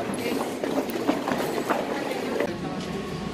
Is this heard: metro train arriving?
yes